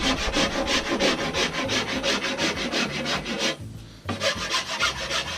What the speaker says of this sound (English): let's take a little bit off with the rasp here where we've got that node that we were talking about on the bamboo here